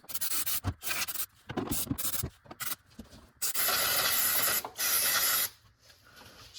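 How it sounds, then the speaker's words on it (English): Several short hissing bursts of brake parts cleaner sprayed onto a Honda V6 engine, followed by two longer sustained sprays, all close and sharp with brief quiet gaps between them. "I got some brake parts cleaner here. I'm gonna go in here and just spray around this."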